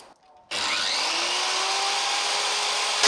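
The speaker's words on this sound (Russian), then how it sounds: "Итак, пила работает" An electric saw, clamped in place and powered from an EcoFlow portable power station, starts abruptly after a short quiet moment and runs at a steady, loud, high whine with no voices.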